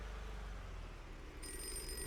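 A telephone rings in the horror video game Drowned Lake. The faint, steady electronic ring starts partway through over a low ambient rumble.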